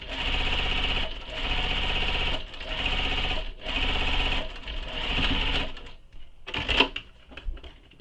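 A sewing machine bastes the curve of a shoulder bag with long stitches, running in several steady bursts separated by short pauses, followed by a few clicks and a short final run.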